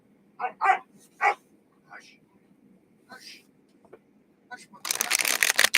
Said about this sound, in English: You'll have to excuse the barking dog in the background.